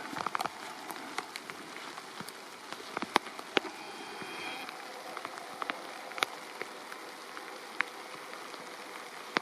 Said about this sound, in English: It's raining out right now.